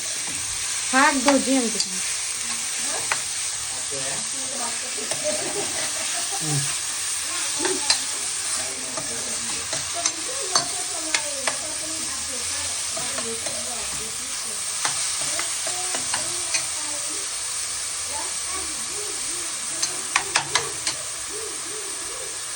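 Chopped onions sizzle and fry in a hot pan for a homemade Manchurian, with a spoon scraping and stirring through them at intervals, a steady close hiss under a brief spoken remark.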